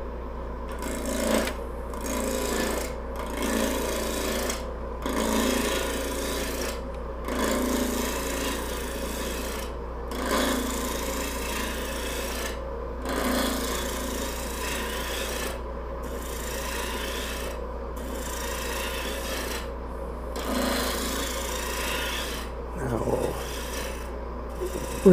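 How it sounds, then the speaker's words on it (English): A wood lathe spins a wooden mallet blank at about 1500 rpm, giving a steady rasping, rubbing drone with a low hum and short periodic scraping bursts throughout, close and continuous. "And the lathe speed is about 1500."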